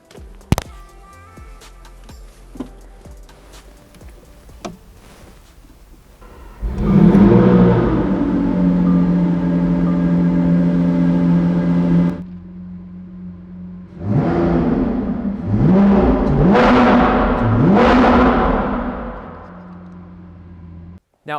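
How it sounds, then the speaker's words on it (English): A Lamborghini Sian V12 fires up with a loud startup flare, then settles into a steady idle, and after a brief lull it is revved hard several times in sharp, rising blips close by, with no talking. "let's start up this beast of a V12, see how this Sian sounds versus the rest of the V12s in the lineup"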